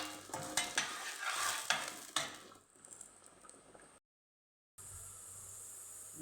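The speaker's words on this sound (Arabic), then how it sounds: "نفرد البصلايه كده ونسيبها تقريبا لحد ما يحمر لونها" Sliced onion frying in a pan gives a bright sizzle with irregular stirring scrapes for a few seconds, then a softer steady hiss that briefly cuts out before returning.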